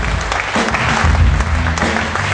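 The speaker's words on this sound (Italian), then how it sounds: "un applauso a tutti quelli che hanno suonato e che suoneranno" Loud, close audience applause at an Italian blues festival for the musicians who played, a dense continuous clapping with low rumbling underneath.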